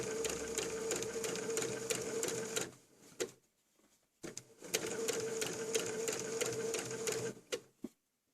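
Sewing machine stitching a zipper onto a cushion: rapid rhythmic needle clatter runs for about three seconds, pauses with a few clicks, then resumes for another burst before stopping, close and alone.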